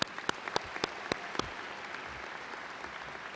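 A commencement audience in an arena applauds graduates seated on the floor, a continuous crowd applause with a few sharp, distinct claps standing out near the start, moderately distant and even.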